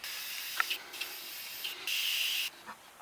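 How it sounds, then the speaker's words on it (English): Citrus air freshener sprays from a can in an RV in one short, soft hissing burst lasting about half a second, with a few faint ticks and clicks around it. "I'm gonna freshen things up with our citrus air spray."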